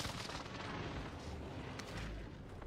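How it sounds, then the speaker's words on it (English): An airstrike explosion hits in the Warzone video game, with a dense, rumbling roar of blasts and debris that fills the whole moment, heavy and continuous at moderate loudness. "Wow, I got hit with the airstrike."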